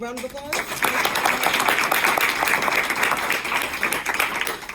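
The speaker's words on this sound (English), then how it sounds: "Can we have one more round of applause?" A workshop audience breaks into a dense, steady round of applause that starts abruptly after a brief spoken word and carries on, close and fairly loud, to the end.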